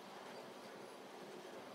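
A model coal train runs along its track with a faint, steady rolling rumble and light wheel clatter, quiet and continuous with no talking.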